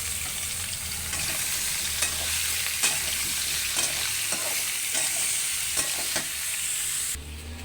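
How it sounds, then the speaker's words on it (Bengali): Bori and potato pieces frying in soybean oil in a pan, a loud continuous sizzle broken by regular sharp spatula scrapes as they are stirred, the sizzle dropping away at the very end. "বড়ি আর আলু আমার সুন্দরভাবে ভাজা হয়ে গেছে"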